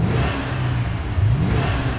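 A Holden Maloo performance ute's engine revs loudly up close, a deep rumbling blip that surges and settles over two seconds with no talk.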